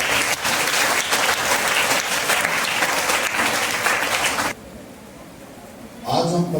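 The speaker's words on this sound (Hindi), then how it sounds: "जोरदार ताली बजाइए" A church congregation bursts into loud, sustained applause that cuts off abruptly, followed by a quieter pause before a voice begins speaking.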